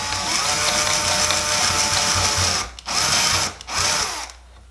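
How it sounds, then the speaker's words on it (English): An electric power drill fitted with a paddle bit bores into a wall, whining loudly and steadily, with two brief dips as the trigger eases before it spins down at the end. "I'm just going to take a paddle bit and I'm just going to try it"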